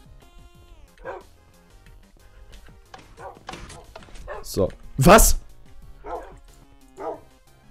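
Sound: dog barking in Minecraft video game

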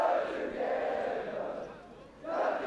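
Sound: rugby crowd singing Paul Roos school song

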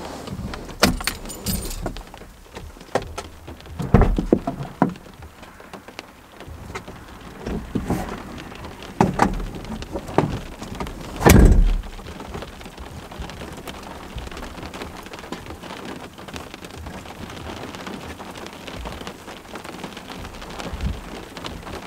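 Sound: rain

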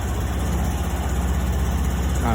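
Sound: Honda Scoopy i 2020 scooter engine started and idling

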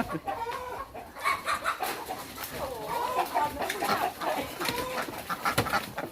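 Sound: chickens clucking

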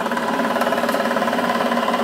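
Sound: milling machine cutting a bench vise handle

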